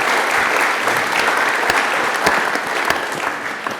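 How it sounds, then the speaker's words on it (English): An audience at an agribusiness industry showcase event applauds in a dense, steady wash of clapping for a few seconds, fairly loud and close, with no talk over it. "Just a round of applause for David"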